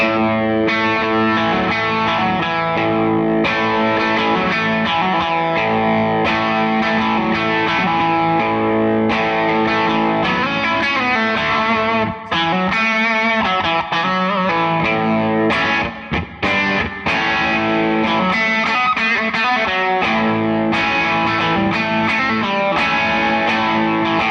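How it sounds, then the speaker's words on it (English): Electric guitar chords ring out loud and sustained, washed in a smooth, spacious plate reverb from a pedal with a distorted edge, playing continuously. "You guys can just hear that it's got some reverb."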